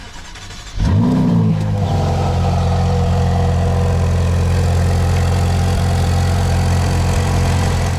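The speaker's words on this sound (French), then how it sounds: "Avec Alex on prend la Lusso, cold start aussi de la Lusso." A cold Ferrari GTC4Lusso fires up after a brief quiet moment with a sharp rev flare, then settles into a loud, steady, high idle that holds to the end.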